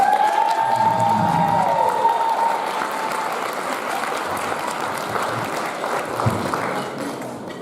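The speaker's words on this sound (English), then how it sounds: "Please join me in a warm round of applause for Mrs. Christine Musetta." A warm round of applause at a church building-project celebratory gala, with a large crowd clapping steadily and loudly, a few cheers mixed in, before the sound settles slightly toward the end.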